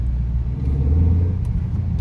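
A car engine rumbles steadily up close as the vehicle drives along, with a low, even drone that swells slightly midway.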